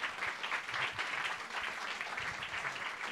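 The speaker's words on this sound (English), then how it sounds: "And a big round of applause for the artist" Audience applause for an artist at a Night of Ideas event, a short, soft wash of many hands clapping in pulsing waves, fairly distant and faint.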